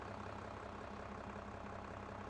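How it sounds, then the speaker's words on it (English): A farm machine's engine in Farming Simulator 22 drones steadily at high revs, a dense, constant mechanical roar with no breaks, heard alone at a moderate level. "That's a loud machine, that is. And that combined with the fact that the engine revs have to be high on this."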